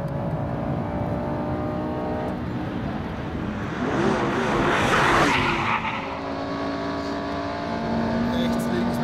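A Lamborghini Gallardo Superleggera accelerating flat out in fifth gear on the Nürburgring Nordschleife, a loud sustained engine roar with a rising pitch sweep midway, under steady background talk.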